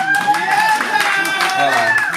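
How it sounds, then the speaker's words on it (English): An audience applauds at a songwriter camp evening event, steady clapping running under a person speaking over it, with a tonal hum present throughout. "Good applause"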